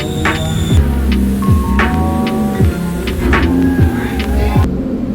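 Turbocharged Toyota Supra with an eBay turbo running on a dyno, a loud close droning engine with repeated pulsing sweeps as revs rise and fall, steady for several seconds.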